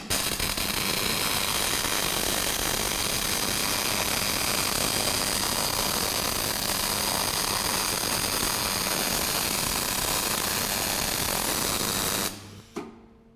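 MIG welding with the wire feed speed turned down crackles and buzzes in a steady, even hiss for about twelve seconds, then cuts off abruptly.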